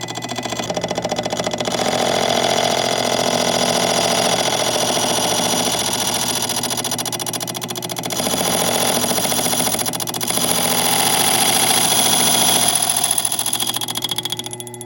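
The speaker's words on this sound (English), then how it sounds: "The gentle hum of a key cutter" A key cutting machine grinds a new key, giving a loud, steady mechanical hum that holds at an even level for the whole stretch with no talking.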